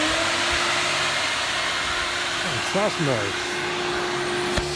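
A gutter cleaning vacuum running steadily with a loud, even whooshing roar and a constant whine, while a voice speaks briefly over it.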